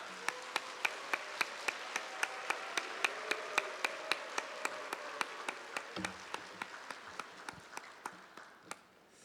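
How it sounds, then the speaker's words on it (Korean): A church congregation claps in unison to welcome Pastor Song Gi-sik to the stage, with sharp, evenly spaced claps over a soft wash of crowd noise, gradually tapering toward the end. "우리 함께 큰 박수로 환영하도록 하겠습니다"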